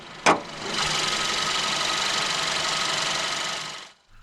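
A 2014 Kia cee'd with a 1.6 GDI naturally aspirated inline-4 cranks and starts after a sharp click, then settles into a steady, close idle that runs a few seconds before stopping.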